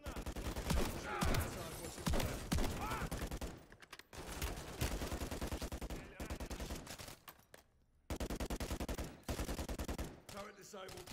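Bursts of automatic gunfire in Call of Duty: Modern Warfare III's 'Trojan Horse' campaign mission, loud, repeated volleys with short pauses, mixed with game sounds and mission chatter.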